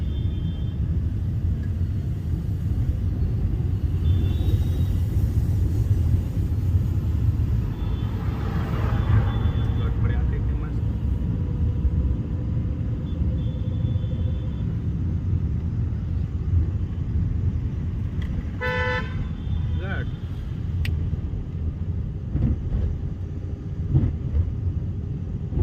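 A car drives steadily along a road during a driving lesson, giving a continuous low engine and tyre rumble that stays even for the whole stretch, with faint voices and a few brief higher sounds on top.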